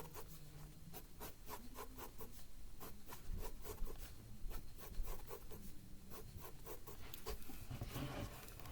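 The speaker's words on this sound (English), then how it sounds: "So I'm just going in with my pencil and adding details." Pencil scratching across paper while details such as stripes are added to a drawing, a steady run of short, close, soft strokes with no talk.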